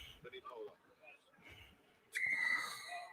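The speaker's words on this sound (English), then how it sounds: "Referee blows the whistle" A referee's whistle at a rugby match between the Sharks and the British & Irish Lions, one sharp shrill blast after quiet commentary, with faint crowd noise around it.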